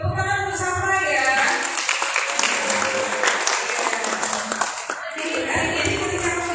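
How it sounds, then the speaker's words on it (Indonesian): A crowd at a job fair in a hall gives sustained applause, with dense clapping that holds steady for several seconds before tapering slightly. "Oke, tepuk tangan bersama ya."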